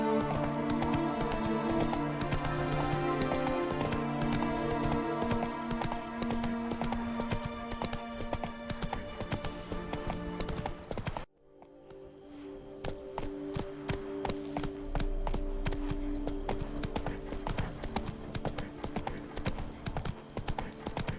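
Hoofbeats of Roach, a horse in a video game, a steady rapid clip-clop running on with music layered over it, a brief drop-out midway, then the galloping resumes.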